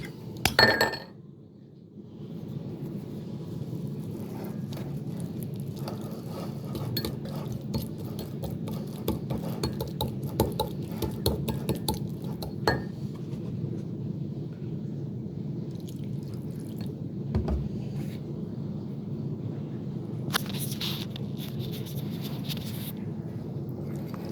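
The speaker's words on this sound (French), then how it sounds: "On va bien le mélanger." Pizza ingredients seasoned with pepper being stirred in a bowl, producing repeated close clinks and scrapes of a utensil against the bowl over a steady soft mixing sound.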